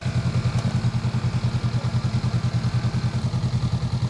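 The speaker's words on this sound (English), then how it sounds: "Honda made sure they gave this bike a nice and aggressive, throaty sound" Honda Rebel 300 or 500 fuel-injected motorcycle engine idling with a deep, throaty, steady pulsing thump, close and loud, with no talking.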